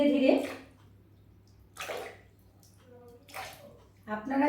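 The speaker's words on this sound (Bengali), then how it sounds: "এবার গরম জলের পরে ঠান্ডা জল দিচ্ছি" Cold water is poured after hot water in a home foot-soak remedy, splashing in three short bursts with quiet gaps between them.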